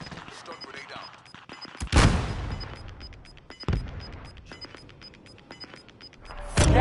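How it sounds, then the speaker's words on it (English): Stun grenade in Call of Duty Warzone going off in two heavy bangs amid scattered distant gunfire, with a thin repeating electronic beep running underneath. "Stun grenade out."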